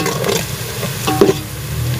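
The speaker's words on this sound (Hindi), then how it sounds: "अब हम प्याज को हल्का ब्राउन करेंगे।" Onions frying and browning in a pan while a pulao is being cooked, giving a steady close sizzle with occasional stirring scrapes and no voice over it.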